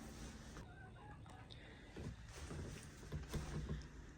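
Broody hens sharing a nesting box, giving low, soft clucks and murmurs, faint and close against a steady background hiss, with no talking.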